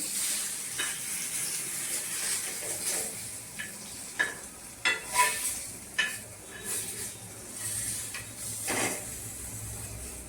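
Bangda (mackerel) frying in hot oil gives a steady sizzle, broken by several sharp clinks and scrapes of a utensil as the fish are flipped in the pan.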